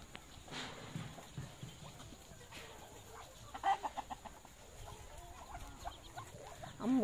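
Chickens cluck in a farmyard, scattered soft clucks building into a brief burst of louder, closer calls amid quiet rustling background noise.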